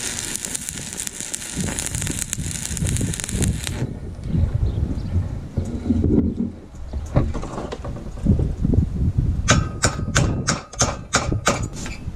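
Welding scrap metal together to build a firewood rack gives a harsh, steady crackling hiss that fades after a few seconds, followed by clanks, shuffling and a closing string of sharp, evenly spaced metallic taps.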